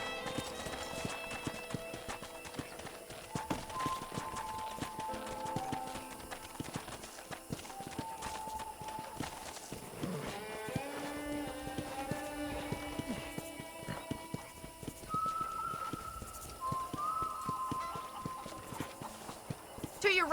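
Horse hooves in Red Dead Redemption as riders head out across a ranch property: steady clip-clop of hooves throughout, under ongoing talk and light background music.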